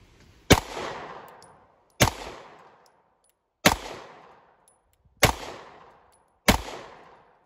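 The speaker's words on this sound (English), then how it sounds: "I'm just putting some rounds through it, about 10 yards." Five loud pistol shots from a Glock fitted with a PSA Micro Dagger slide, fired one at a time at an outdoor range, each sharp crack followed by a decaying echo, spaced roughly one to one and a half seconds apart.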